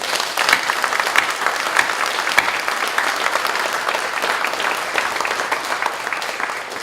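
Guests at an orphanage director's farewell and inauguration thanksgiving service give sustained, warm applause, a close, steady wash of many hands clapping for nearly seven seconds without speech.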